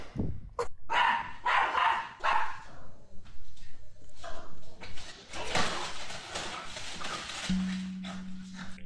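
A dog barks in a short burst of several yips and barks early on, fairly close, followed by scraping and sliding household noises and a steady low hum near the end.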